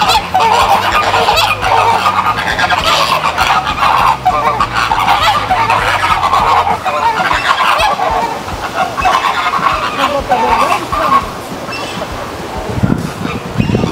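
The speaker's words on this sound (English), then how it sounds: "There's flamingos." Flamingos at Discovery Cove honk in a loud, continuous, nasal chorus of overlapping goose-like calls, close by, with brief talk from people nearby.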